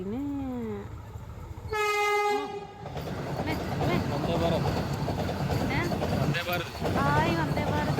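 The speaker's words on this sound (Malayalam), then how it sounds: "ആയി വന്ദേ ഭാരത് കണ്ടോ?" A Vande Bharat express train sounds a loud two-tone horn, then rumbles past with steady rolling clatter while people talk nearby.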